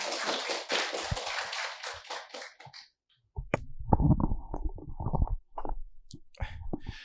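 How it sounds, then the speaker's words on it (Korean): An audience applauds to welcome a speaker at a Korean academic seminar on resident autonomy and governance: about two and a half seconds of dense clapping, then a short silence and someone talking. "박수로 모시겠습니다"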